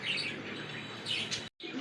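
Fancy pigeons at a wholesale pigeon market give soft, continuous calls and chirps close by, with a brief dropout near the end.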